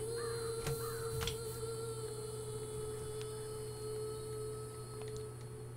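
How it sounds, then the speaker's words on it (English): A crow in the horror game BloodLust caws a couple of faint, brief times early on against a steady electrical hum and low droning ambience. "Hello, crow."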